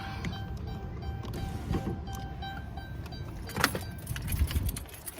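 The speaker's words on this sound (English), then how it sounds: "Let me grab my keys." Keys jangle near a van ignition, with light metallic clinks and rattles scattered over a quiet vehicle interior and a few soft thumps.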